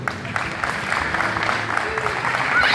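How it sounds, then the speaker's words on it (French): Audience applause at an amateur boxing bout in a club match, a steady wash of clapping from the crowd that holds evenly throughout and swells slightly at the end. "vous pouvez les applaudir."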